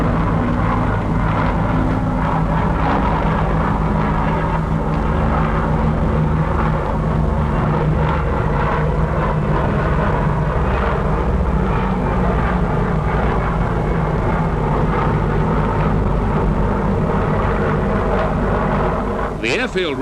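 A 1948 aircraft flies over an airfield dropping granulated superphosphate fertilizer, its engine a loud, steady drone throughout, heard beneath someone narrating continuously.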